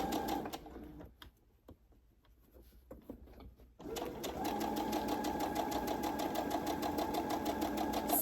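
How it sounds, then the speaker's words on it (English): Sewing machine stitching a wristlet pouch with an 80-12 or 90-14 needle, a loud close mechanical whir that pauses briefly with a few clicks, then resumes as a steady rapid run. "Keep sewing, maintaining that 1/4 inch."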